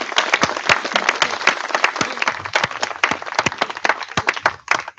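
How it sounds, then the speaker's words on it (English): Sustained applause from an audience at a sports complex ribbon-cutting ceremony honoring coaches, staff and student athletes, dense hand clapping close by with scattered louder claps, no talking over it. "Please give a warm round of applause for all our Panther coaches, staff, and student athletes."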